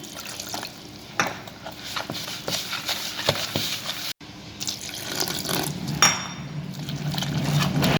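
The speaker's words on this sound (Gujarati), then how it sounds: "હવે થોડું થોડું પાણી નાખીને આપણે ખીરું બનાવવાનું છે।" Water poured little by little into a rava mixture for dhokla batter, with a running trickle, splashes and scraping stirs in a bowl, and a brief pause midway.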